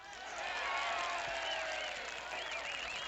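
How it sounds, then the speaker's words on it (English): Crowd applause and cheering for a performer named Sharon at a stage event, a steady wash of clapping rising early and holding loud throughout, with a brief burst of louder cheering near the end. "A big round of applause for Sharon."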